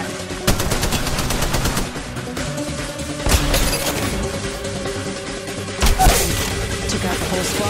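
Rapid gunfire bursts in Apex Legends Mobile crackle over a dense game soundtrack, with sharp louder volleys punching through near the start, middle and end.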